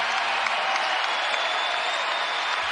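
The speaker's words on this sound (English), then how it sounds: "listen to the applause for Young" Basketball arena crowd at a Duke Blue Devils versus Baylor Bears game applauding player Ryan Young, a steady dense wash of clapping and cheering from a large crowd, broad and sustained with no clear talk over it.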